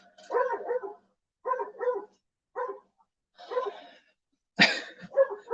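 Dogs bark repeatedly in short clusters of woofs separated by pauses, with one louder, harsher bark near the end, off in the background of a quiet room.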